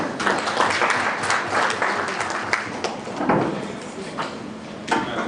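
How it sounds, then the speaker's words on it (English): A workshop audience in Soroti, Teso applauds to welcome Dr. Herbert Swatan. The clapping is dense and steady for about five seconds, with a few sharper claps standing out. "And give him a hand clap"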